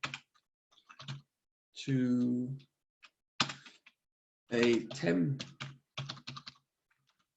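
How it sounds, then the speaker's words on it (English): Typing on a computer keyboard during a teaching session, with quick bursts of clicking keys interleaved with someone speaking close to the microphone. "sorry about me talking and typing"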